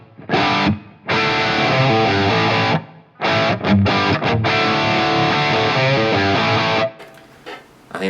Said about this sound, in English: instantly you get a little bit more of a sort of airy room kind of sound